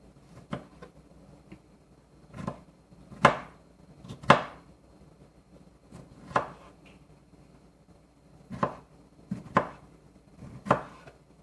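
A knife cuts through fruit for a holiday pie in about a dozen sharp, separate thuds on a cutting board, spaced irregularly, close and clear against a quiet background.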